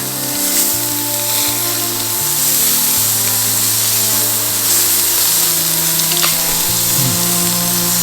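Shrimp, tails left on, sizzling steadily in a hot pan as they are flipped, a loud continuous hiss and crackle with faint clatter underneath.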